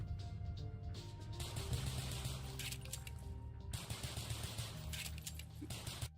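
Pistols fire in Call of Duty in rapid repeated cracks, quick shots in bursts like a magazine being emptied, faint and continuous over about six seconds.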